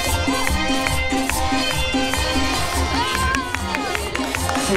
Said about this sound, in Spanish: Enseguida los aplausos para la familia